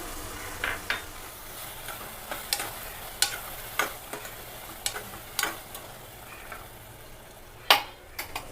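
Thick curd is stirred in a pan with a soft sizzle beneath, marked by a series of sharp scraping and clinking spoon strokes against the pan at uneven intervals, fairly quiet overall.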